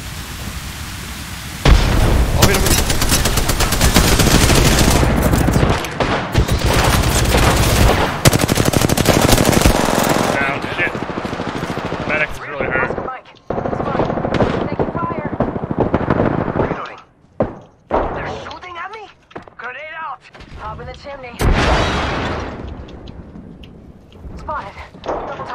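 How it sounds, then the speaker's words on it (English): In a shooter video game, heavy rapid gunfire and loud bursts lead into a thrown grenade exploding, then sparser shots and impacts, with players talking excitedly throughout. "Grenade out! The grenade."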